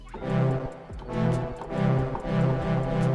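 Swelling, breathy synth tones from a seashell-sampled instrument rise and fade in repeating phrases, warmed by tape-style saturation and trailed by delay echoes and a roomy reverb tail.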